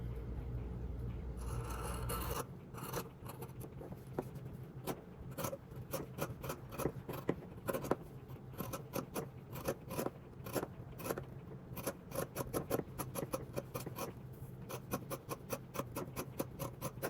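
Scissors trimming fabric for a McCalls 7789 jumpsuit, a long run of crisp, quiet snipping and rasping cuts in a close, irregular rhythm, with no talking.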